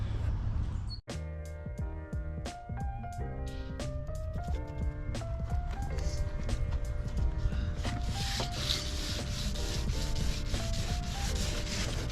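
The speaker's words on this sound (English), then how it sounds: "So I'm gonna definitely have to sand this one a little bit more." Fiberglass on a Seadoo GTX 185 watercraft is being sanded to repair cracks. The scraping rub is continuous and close, with squeaky tonal whines that shift pitch as the strokes change.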